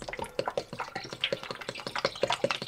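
Coolant being poured into the cooling system of a Rover V8, a quick irregular run of wet splashes and drips at close range, fairly quiet, with no talking.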